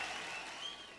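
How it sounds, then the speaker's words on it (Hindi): A brief burst of applause, a dense wash of clapping from a crowd, moderately loud and steady. "एक जोरदार तालियों के साथ"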